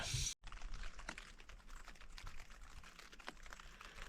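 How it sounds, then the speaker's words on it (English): Heavy rain falls hard on a tent at a campsite, heard from inside as a dense, close, continuous patter of irregular taps with no talk. "Well, it started to rain."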